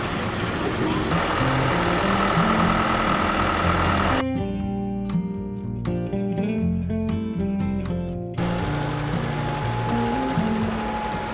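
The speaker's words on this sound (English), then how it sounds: "the Grimmy self-propelled potato harvester covers 4 rows at once" A Grimme self-propelled potato harvester drones with a heavy, continuous engine rumble that briefly gives way to a tonal, rhythmic stretch midway before the steady machinery noise returns.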